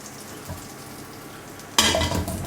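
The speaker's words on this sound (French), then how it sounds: "on va les faire rissoler comme ça jusqu'à ce qu'elles soient bien dorées" Potatoes hit melted butter in a pan with a sudden loud sizzle after a quiet stretch, the crackling frying staying close and bright.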